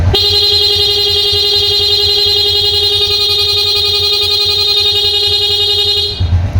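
A loud, continuous electric horn on a Honda RS125 motorcycle blares steadily for about six seconds, then cuts off abruptly.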